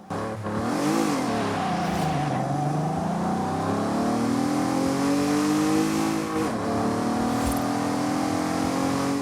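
A rotary-swapped, modified Cadillac XTS Limo in Forza Horizon 5, engine revving hard and loud, the pitch sweeping down and then climbing steadily under acceleration, with brief tire squeal.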